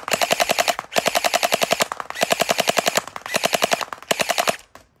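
A Gel Blaster Surge gel blaster fires in rapid full-auto bursts, four long strings of fast, evenly spaced shots separated by short pauses, loud and close.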